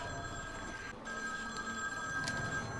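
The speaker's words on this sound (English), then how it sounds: "Let's answer the telephone." A telephone rings inside the video game Insomnia The Ark, a continuous electronic ringing tone held steadily over a low background hum.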